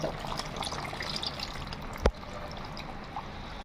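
Tamarind pulp water poured into a simmering crab curry, a steady wet rush of liquid with one sharp splash or knock partway through, close and fairly quiet with no talking.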